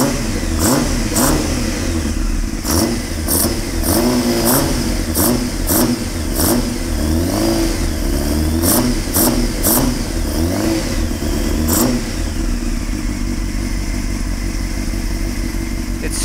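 A 1998 Honda CBR600 motorcycle engine running close and loud, rough idle broken by repeated sharp throttle blips in quick bursts, settling into a steady idle toward the end.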